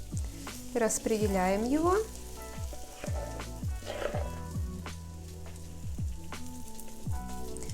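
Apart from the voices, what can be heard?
Viennese waffle batter sizzling in waffle iron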